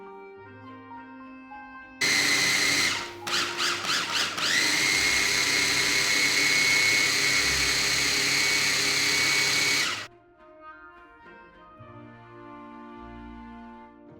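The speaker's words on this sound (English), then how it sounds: "Slowly pulse the biscuits until they become a fine powder." A food processor pulses Oreo biscuits into fine powder, a loud whirring burst starting abruptly, stuttering in a few quick pulses, then running steadily for several seconds before cutting off.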